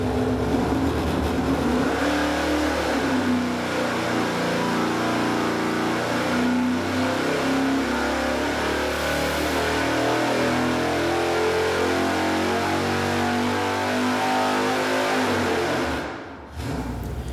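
A supercharged 496 big-block engine fitted with a Procharger F1A roars loud and sustained under load, holding a heavy, steady growl before dropping off sharply near the end.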